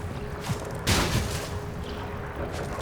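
An explosion in the video game Hollow Knight: Silksong lands as a single loud burst amid steady in-game rumble, with a smaller thud just before it and busy background noise continuing afterward.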